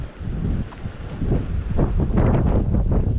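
Gusty wind buffeting the microphone beside a river at a fishing spot, a steady broadband rumble that swells louder in the second half with no talking.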